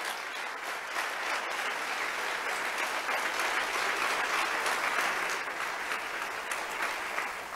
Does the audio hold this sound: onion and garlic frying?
no